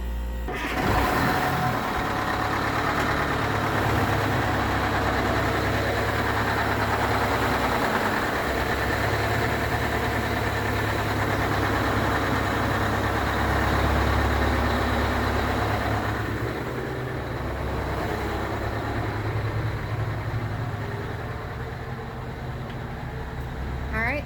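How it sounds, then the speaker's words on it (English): Large boat engines idle with a deep, steady rumble throughout, the drone dipping slightly toward the end; faint background voices occasionally. "soon it was time to start the engines"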